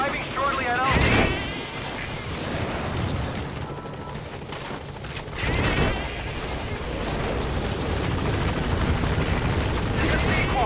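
In the Metal Gear Solid 5 video game, a support helicopter arrives with a steady, heavy rotor roar and engine drone beneath game sound effects, with a couple of booming swells.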